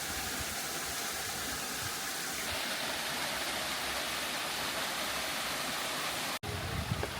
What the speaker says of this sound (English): listening to the sound of the water.